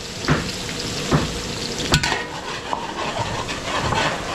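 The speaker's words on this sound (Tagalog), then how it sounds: "Nagigisa lang muna natin bawang sibuyas natin." Garlic and onion sizzle in a hot pan as they are sautéed, with steady frying crackle and a few clinks of a utensil stirring against the pan, close and fairly loud with no talking.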